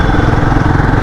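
A Royal Enfield Guerrilla 450 motorcycle engine drones steadily and loudly while riding, with a rumbling wind-buffeted low end throughout.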